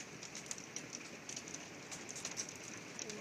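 Hail and heavy precipitation during a severe thunderstorm in Wisconsin, heard as a dense, steady patter of many small impacts with scattered sharper ticks, moderately faint and without voices.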